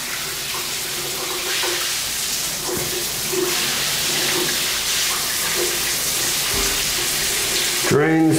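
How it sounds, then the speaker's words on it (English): Water runs from a faucet and drains in a model home bathroom, a steady rushing hiss with faint knocks and gurgles, then a louder burst of splashing at the very end. "Drains pretty good."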